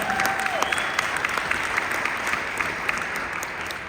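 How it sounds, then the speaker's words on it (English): Big round of audience applause for two honorees at a company gathering, dense sustained clapping, fairly loud and continuous, with a brief tone near the start. "So everyone give Daniel and Tyson a big round of applause."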